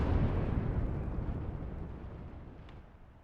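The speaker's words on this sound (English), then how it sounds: "So not a terrible barrage." A deep, rumbling artillery explosion in the Gates of Hell: Ostfront war game, loud at first and then slowly rolling off into a fading, distant roar.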